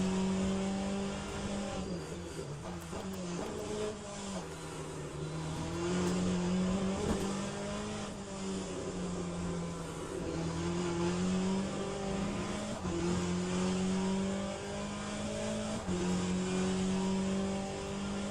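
A race car engine in Le Mans Ultimate is held at high revs on a lap on cold tires, its pitch rising and dropping through gear changes, steady and loud throughout with no talk.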